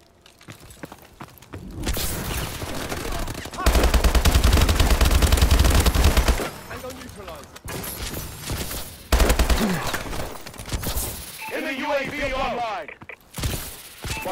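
Gunfire in the video game Call of Duty: Advanced Warfare, with loud bursts of automatic fire and scattered single shots between quieter gaps, followed by mechanical clicks and in-game voice callouts.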